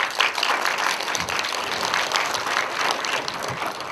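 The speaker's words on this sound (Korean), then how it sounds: "큰 박수 한번 부탁드리겠습니다." Audience applause for two directors and an actor after a film screening Q&A of a webtoon adaptation, a steady dense wash of many hands clapping throughout, moderately close with no speech over it.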